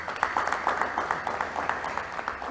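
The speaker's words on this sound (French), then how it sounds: "Et vous pouvez applaudir pour ce public." Studio audience applauding at a televised debate on youth in politics, a soft steady patter of many hands clapping, fairly distant and quiet, with no one speaking over it.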